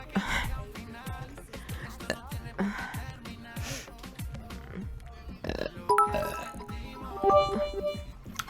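A girl on a Twitch stream lets out several short throaty burps at close range, scattered between bursts of her own chatter and laughter.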